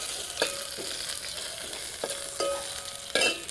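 Green chillies and crushed ginger fry in a little oil with a close, steady sizzle, punctuated by several sharp scrapes and clinks of stirring in the pan.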